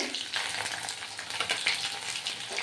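Panch phoron, chopped onion and green chili sizzle and crackle in hot oil in a pan beside frying fish, a steady close hiss with brief stirring bursts.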